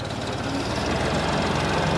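A Ford 4610 tractor pulling a loaded sugarcane trolley in Pakistan gives a loud, steady, low diesel drone with a faint knocking throb throughout and no talk.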